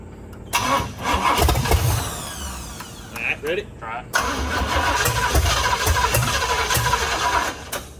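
The engine of a stuck 1962 Cadillac with a swapped 500 ci V8 cranks over, then sputters and catches into a rough, loud idle while people talk nearby.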